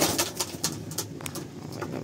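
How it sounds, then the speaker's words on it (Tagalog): Pigeons coo on a home terrace, soft repeated low calls close by with light fluttering and patter around them, no talking. "Mga kalapati dito natin."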